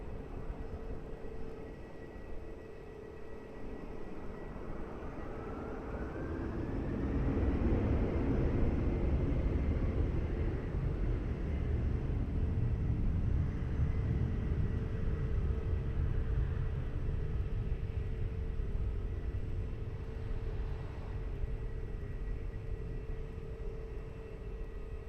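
A Portugal airliner taking off from runway 20 at Lisbon Airport, a broad jet roar that rises over several seconds, holds loud and steady, then slowly fades into distant rumble.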